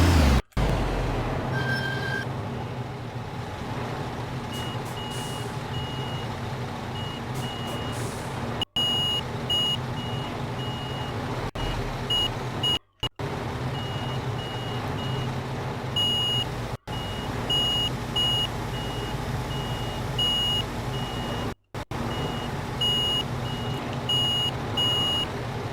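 Steady high reversing beeps from a truck backing up to a curtain-sided trailer in Construction Simulator 2015, repeating at an even pace over a constant low engine hum, with no talking.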